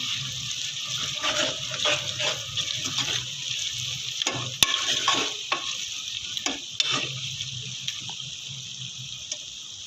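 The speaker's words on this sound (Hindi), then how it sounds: "अब हम इसमें लहसुन अदरक का पेस्ट ऐड करेंगे। और इसको अच्छी तरह जो है वो फ्राई करेंगे।" Ginger-garlic paste frying with browned onions for chicken biryani, a steady sizzle with scraping stirs and a few sharp clinks of the utensil against the pan.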